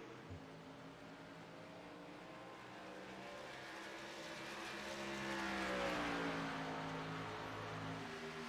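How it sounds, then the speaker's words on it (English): Several race cars circle the track at Gateway during a 150-lap race, engines droning from a distance, one rising and falling as it passes, faint and continuous with no voices. "Nine cars on the track,"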